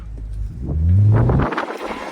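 A BMW with an N55 engine on cheap winter tires, a single loud surge of engine roar rising and falling over about a second as the tires spin, close by.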